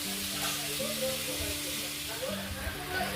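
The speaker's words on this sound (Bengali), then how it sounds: "তো এখানে মাছগুলো ভেজে নিচ্ছে মা।" Parshe fish frying in a pan with cumin and ginger, a continuous bright sizzle and crackle close by, with faint voices and stirring underneath.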